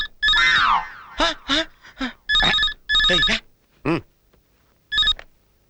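A telephone rings in repeated electronic bursts, loud and close, with short ring pulses broken by brief gaps and a sliding warble at the start, heard alone without talk.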